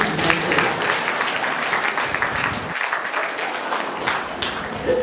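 Steady, loud applause from an audience at a fourth-anniversary meditation gathering, continuous clapping filling the hall for about five seconds without pause.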